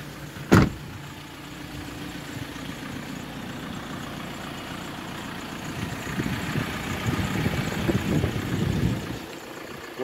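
A 2015 Ford Transit van engine runs at idle outdoors, a steady low rumble after a brief sharp knock at the start, swelling slightly louder toward the end.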